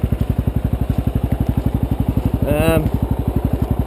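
A 1999 dirt motorcycle engine runs close by with a fast, even putter that holds steady throughout, and a brief higher tonal whine rises over it midway.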